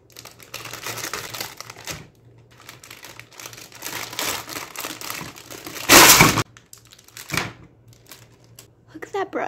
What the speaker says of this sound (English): I'm gonna use a compass to stab through this plastic.